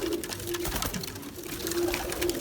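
Soft, low pigeon cooing repeats throughout over a busy background of rustling and faint chatter at a Turkish bird auction.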